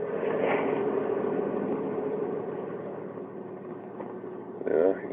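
A 1995 Ford F-150 4x4 idles steadily just after a cold start, a close, constant engine drone with a slight rise near the end and no talk.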